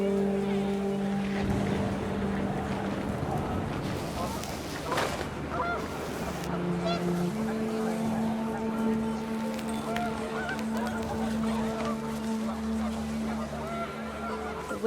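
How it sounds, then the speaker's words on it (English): Panicked geese honk in What Remains of Edith Finch, with repeated honks and calls over windy outdoor ambience. Faint wind-like noise runs under them, and a voice is heard briefly. "The wind picked up, and panicked geese appeared and quickly went."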